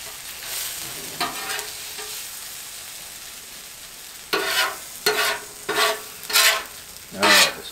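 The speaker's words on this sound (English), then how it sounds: "you want to make sure you scrape up all that minced garlic and the seasonings off the bottom" A utensil scrapes minced garlic and seasonings off the bottom of a hot pan while deer heart fries, a soft continuous sizzle broken by several sharp, rhythmic scraping strokes close by, with no talking.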